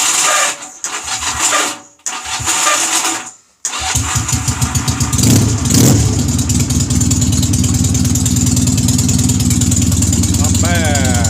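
A Honda Rebel motorcycle cranking through a few starter turns, then catching and settling into a loud, steady close idle.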